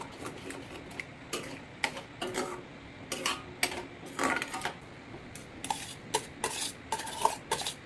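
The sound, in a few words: stirring dal khichdi with salt and garam masala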